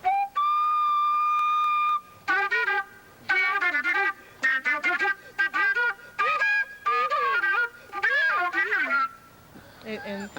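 A flute played live in a club, starting with a sustained steady note and then moving into quick, lively phrases with short gaps, loud and close.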